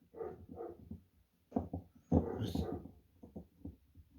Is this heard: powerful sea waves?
no